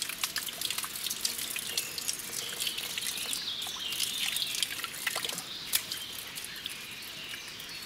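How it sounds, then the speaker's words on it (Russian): Water trickles steadily out of a small hole in the rusted, scale-crusted bottom of an old motorcycle gas tank, a close, continuous running-water sound with faint drips and no speech. "Так, дырочка в дне. Вода пошла."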